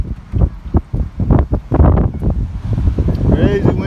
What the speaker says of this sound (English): Crazy windy day.